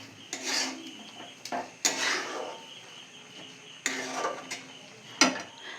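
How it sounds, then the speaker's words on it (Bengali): Oil is rubbed by hand onto a metal plate (thala) before sesame laddu mixture goes on it, making a series of close scraping and clinking strokes separated by short pauses. "আমি তেলটা এই থালাতে লাগিয়ে নেব"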